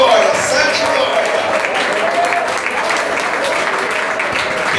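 A church congregation claps during a worship service, a steady, fairly loud wash of applause with voices mixed in throughout.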